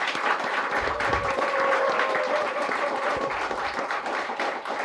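Studio audience applauding at an Indonesian televised talk show, a steady, dense wash of clapping filling the whole stretch at even loudness, with faint voices mixed in.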